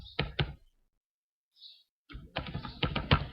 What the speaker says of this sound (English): so here I'm going to type